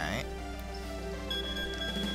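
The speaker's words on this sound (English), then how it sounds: "There goes the timer." A timer goes off in the video game Spellbinder, a steady electronic ringing tone that sounds continuously at moderate volume with a soft background hum and no one speaking.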